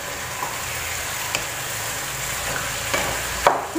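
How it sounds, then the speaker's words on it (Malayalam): A spoon stirs Kerala-style chicken stew in a pot. Soft, low scraping runs throughout, with a few sharp clinks of utensil against metal. No one speaks. "ഇതൊന്ന് ഇളക്കി കൊടുക്കാം"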